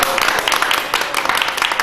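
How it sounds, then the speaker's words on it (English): Audience in a talk or seminar room clapping hard together, a dense run of many overlapping hand claps with individual sharp slaps standing out, sustained and fairly loud throughout. "Can you clap as strong as if you are in a ruling party?"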